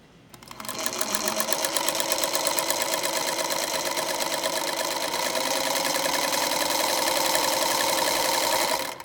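A sewing machine runs steadily while sewing a backwards stitch, its rapid needle hum continuous and close for the whole stretch before stopping.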